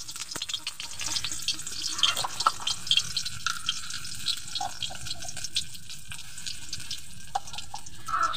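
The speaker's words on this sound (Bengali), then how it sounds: "এবার জিরেটা ভেজে নিচ্ছি" Cumin seeds sizzle in hot oil with a dried chili in the pan, a close crackling spatter of small pops and hisses, uneven and continuous.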